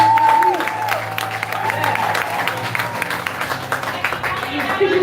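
An audience applauds at a graduation ceremony in a hall, steady clapping filling the room at moderate volume while a voice speaks over it.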